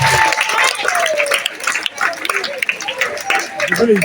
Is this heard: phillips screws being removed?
no